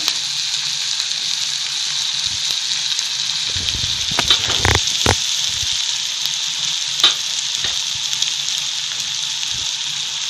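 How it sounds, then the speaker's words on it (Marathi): Masoor dal sautéing with onion and turmeric in a pan, a steady close sizzle and hiss with a few scraping stirs partway through. "थोडं परतून घेऊया आता 2 मिनिट"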